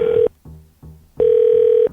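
A telephone line rings on an outgoing call: two long buzzing ring tones separated by a short quiet gap, steady and clear with no voices.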